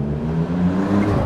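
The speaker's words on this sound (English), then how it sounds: "Someone with a loud exhaust." A vehicle with a loud exhaust passes on a street in Finchley, a brief, close, throaty engine drone with no talking over it.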